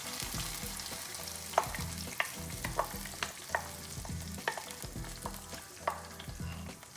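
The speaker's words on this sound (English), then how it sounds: "just let the masala simmer for about 2 minutes in this puree" Pre-boiled dal simmering and being stirred in a masala puree for dal makhani: continuous frying hiss with a string of light, irregular spoon scrapes and taps, close up and without speech.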